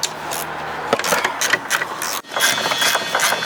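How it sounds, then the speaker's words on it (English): A hand ratchet spins 13 mm bolts off a front air suspension strut on a Mercedes CLS, giving close, loud bursts of fast clicking, a brief pause, then another run of steady ratcheting. "Get yourself a 13 mm socket and remove."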